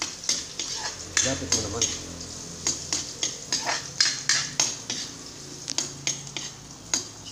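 Garlic and ginger sauté in a pan while being stirred, with repeated sharp clinks of a utensil against the pan over a steady sizzle and a brief spoken remark.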